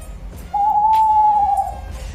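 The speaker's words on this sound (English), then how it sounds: "An owl." A single owl hoot rings out as one steady, sustained tone lasting about a second, fairly close and clear over a faint low background hum, with no talking.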